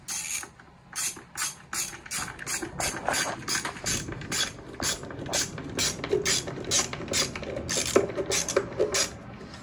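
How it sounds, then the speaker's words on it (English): A screw is driven into stain-grade cypress or heart pine window trim while fitting brass stop bead adjusters, giving a close, loud run of rapid ratcheting clicks and mechanical whirring for nearly ten seconds with no talk. "One of these days, we're gonna figure out how to put in a screw."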